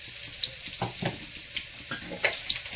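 Dried red chillies and bay leaves sizzling in hot oil in a pan for a chicken curry, a soft crackling fry with a few sharper pops and light stirring scrapes, close and fairly quiet, no talking.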